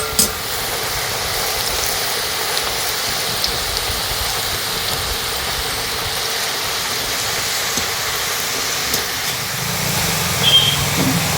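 Moon biscuit dough of flour and oil frying in hot oil, a steady, even hiss of bubbling and crackling that runs unbroken, slightly louder near the end.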